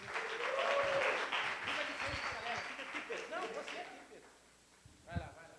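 A church youth audience claps for a performer at a youth gathering. The applause starts loud, thins out and fades over several seconds, and a brief voice breaks in near the end.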